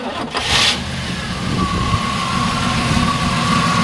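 A 1967 Chevrolet Camaro SS/RS 396 big-block V8 cranks briefly and catches, settling into a steady, rumbling idle with a faint whine running through it, close by.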